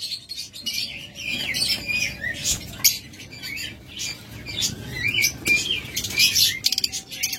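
Pet budgerigars and cockatiels chatter and chirp in a busy, continuous stream of shrill tweets and squawks, with occasional brief wing flutters, close by and fairly loud.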